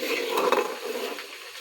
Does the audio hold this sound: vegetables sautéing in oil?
yes